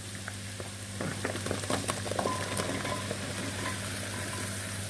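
Okra frying in a pan with garlic and onion, a steady close sizzle with scattered pops and stirring scrapes, no talking.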